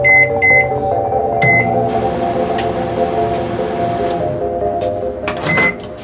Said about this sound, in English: Place the bowl in the microwave for 2 to 5 minutes or until boiling.